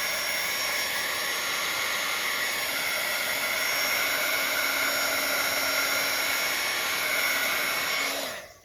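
A hair dryer or heat tool whirs steadily over a rustic paper craft project, a constant close hiss of air that runs alone and then switches off at the end.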